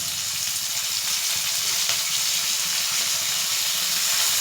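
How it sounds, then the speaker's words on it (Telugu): Tomatoes and green chillies frying in oil inside a pressure cooker while making egg biryani; a continuous close, bright sizzle with no talking. "వేసి ఇది బాగా ఫ్రై చేస్తాను"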